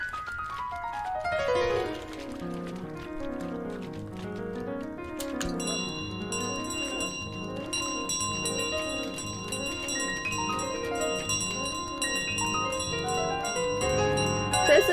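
A small bell jingles and rings repeatedly as a goose carries it around in Untitled Goose Game, bright tones over a light plucked game melody that goes on throughout.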